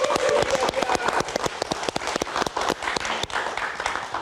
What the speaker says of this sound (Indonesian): Kita kasih tepuk tangan untuk Dasya.